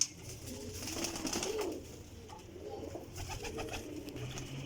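Pigeons cooing in a loft of young racing birds, soft throaty coos repeating close by, with wing flutters and small shuffling noises around them.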